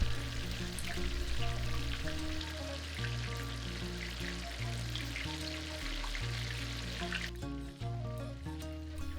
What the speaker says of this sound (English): So it's now time to refry all the wings